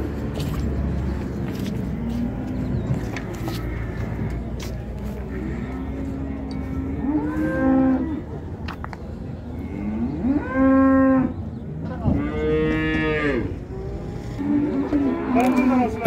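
Cattle moo loudly at an outdoor livestock market in Füzuli, Azerbaijan, with several long drawn-out calls, some close and some farther off, over a steady murmur of crowd and vehicle noise.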